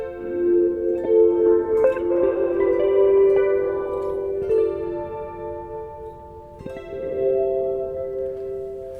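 A guitar run through an Arturia filter with chorus holds sustained chords whose tone slowly swells and sweeps in a swirling, phasing wash, with a few soft picked attacks and no talking.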